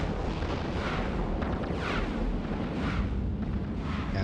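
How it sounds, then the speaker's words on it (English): Rage rockets exploding in the video game EVE Online, a continuous rumbling roar of overlapping heavy blasts and bursts, loud and dense with no clear gaps. "And the Rage rockets hit pretty hard."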